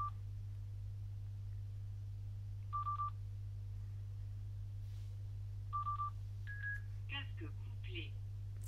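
Sena SMH10 motorcycle intercom being paired with a phone: a few short, clean electronic beeps spaced apart over a low steady hum, with some faint tones and quiet voice sounds near the end.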